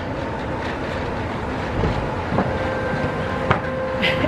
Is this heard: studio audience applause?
no